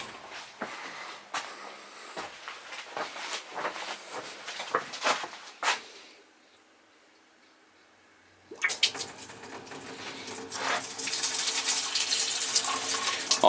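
Water runs from a sink fed by a battery-powered pump, splashing with clattering handling sounds, then a brief near-silent pause before a steady, louder rushing flow resumes and builds.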